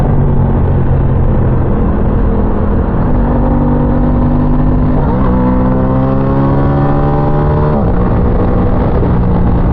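An Aprilia Tuono 660 motorcycle engine drones loudly and close, then revs upward twice with its pitch climbing before settling back to a steady roar.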